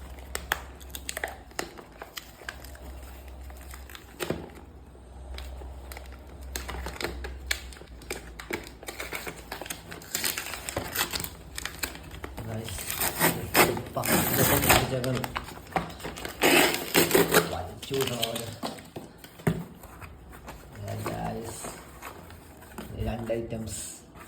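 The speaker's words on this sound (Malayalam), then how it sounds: "അപ്പോൾ നമുക്ക് അൺബോക്സ് ചെയ്ത് നോക്കാം." Packaging for a microphone and a selfie stick tripod is unboxed, with crinkling plastic, tearing and tapping rustles running under steady nearby talking.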